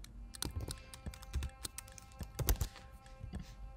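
Keys clatter on a computer keyboard in irregular bursts of quick taps with short pauses between, close and fairly crisp, with no voices.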